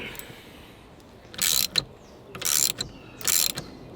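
Ratchet working on the 19 mm steering wheel bolt of a Nissan D21 Hardbody, three short bursts of rapid metallic clicking separated by pauses, close and fairly loud.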